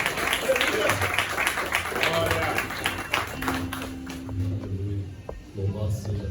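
Church congregation applauding during an evening service, a busy patter of clapping that fades out midway as a voice carries on over quieter crowd noise.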